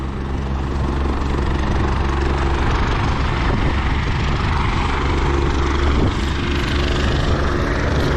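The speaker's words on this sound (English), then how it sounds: "Helicopter's about to take off" A loud, continuous helicopter roar with a deep rotor throb as it takes off in Freycinet National Park, steady and close throughout.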